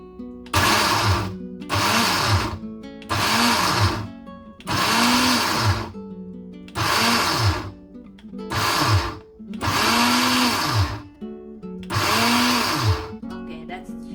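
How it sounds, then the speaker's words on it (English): A smoothie maker blender pulses oatmeal in eight short bursts of a few seconds each, its motor whining up and then dropping back between pauses, loud and close with no talking. "I'm just using my smoothie maker. You don't have to really grind it powdery. Just pulse it a couple times."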